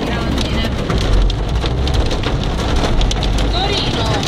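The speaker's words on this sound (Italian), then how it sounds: "Ed è grandine." Hail pelting a car in Turin, a dense, loud, continuous drumming and rattling on the body and windows heard from inside, with voices faintly mixed in.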